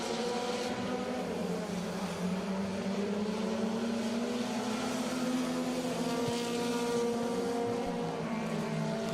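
Race cars circle Riverhead Raceway on championship night, their engines making a continuous droning roar with rising and falling pitch as they pass through the turns, heard at a distance as a steady blended rumble with no talking.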